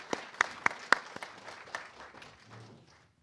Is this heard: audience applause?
yes